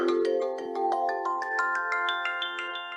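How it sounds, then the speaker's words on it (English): A phone ringing near a computer: a bright, melodic ringtone with repeated electronic notes pulsing steadily at moderate volume, with no talking over it. "Sorry about that, something's ringing here."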